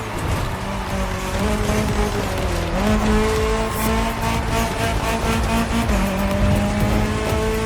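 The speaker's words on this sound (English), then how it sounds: "The rally car has already changed its course to reach the dirt." A rally car races in the video game The Crew Motorfest, its engine loud and continuous with rising and falling revs through gear changes, mixed with tire noise and skidding on the course.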